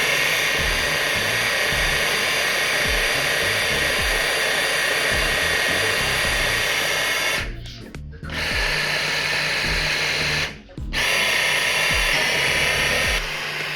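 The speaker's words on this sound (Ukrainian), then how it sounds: "Збиваємо в чаші сиркову масу для сирника." A Braun Multiquick 5 MQ535 hand blender whisking curd mass in a bowl, a loud continuous whirring motor that drops out briefly twice before starting again.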